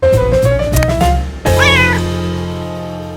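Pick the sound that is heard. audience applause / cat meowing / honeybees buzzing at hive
cat meowing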